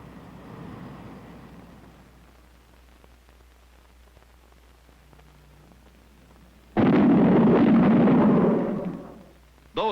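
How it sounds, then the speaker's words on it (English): Shock-wave bangs from an aircraft in transonic flight: a low rumbling burst opens, then after a quiet stretch a second, much louder broadband blast roars for about three seconds before cutting off. "Those bangs were shock waves from an aircraft in transonic flight."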